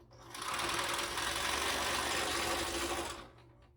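A standard domestic sewing machine quilting a straight line through a large quilt runs in one steady, close mechanical whir for about three seconds, starting and stopping cleanly, with no talking.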